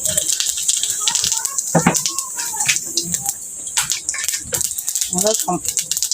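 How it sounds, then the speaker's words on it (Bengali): A bay leaf and whole cumin seeds are dropped into hot mustard oil and crackle and sizzle in bursts, with a person talking over the frying throughout. "তেল গরম হয়ে গেছে বন্ধুরা এখন আমি দিলাম একটা তেজপাতা আর গোটা সাদা জিরে"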